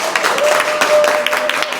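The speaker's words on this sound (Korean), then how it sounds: "김희시 목사님 나오실 때 우리 힘찬 박수로 환영하겠습니다" A church congregation claps loudly and steadily for nearly two seconds to welcome a guest pastor, with a faint steady tone underneath, before the clapping cuts off.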